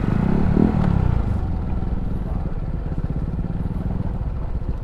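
A motorcycle engine runs steadily while riding over a rough road near a river crossing between Aurora and Quezon, a loud, continuous rumbling putter with rattling and clatter from the uneven ground and no talk.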